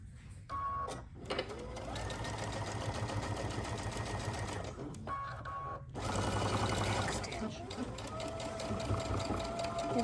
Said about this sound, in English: And now we're just gonna sew that down.